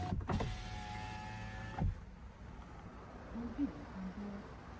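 Electric window on a Changan Deepal S05 opens in a short motor whir lasting under two seconds, close and moderately loud, followed by a quiet cabin with faint background hum.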